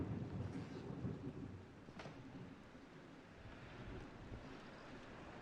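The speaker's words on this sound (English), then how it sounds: "Yes, it's a storm brewing." A thunderstorm in the horror game Conarium, with deep rolling thunder and a steady rush of rain and wind, one sharper crack partway through, constant and moderately loud with no voices.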